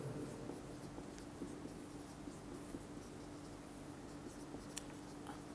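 Soft, scratchy strokes of writing during an optics lecture on plane mirrors, faint and continuous over a low room hum, with no voices.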